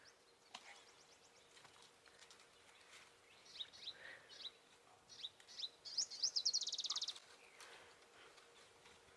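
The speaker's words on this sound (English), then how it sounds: "You hear all the little birds passing through, which is quite nice as well." Small waxbills give thin, high chirps and a quick twittering burst nearby, scattered over a quiet outdoor background with faint tapping sounds, during a sunrise safari drive.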